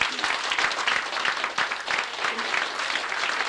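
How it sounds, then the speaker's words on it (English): An audience applauds at a public event, a dense, steady wash of many hands clapping at moderate volume from start to finish. "Would you give them a round of applause, please?"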